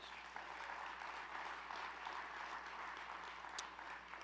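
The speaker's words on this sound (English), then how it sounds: "Give yourselves a round of applause." An audience of business people at a Gary chamber fireside chat gives themselves a round of applause, a soft, steady patter of clapping heard at a distance, faint and even throughout.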